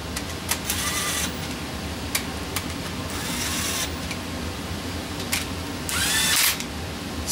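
Power tool torquing bolts on a 350 Chevy engine in a snowy work setting, with short bursts of whirring and a louder final run near the end over a steady background.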